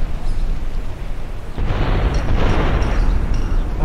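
Rumbling in-game explosions from GTA V with an effects mod, a broad roar that swells loud midway and keeps booming and crackling to the end, with no talking.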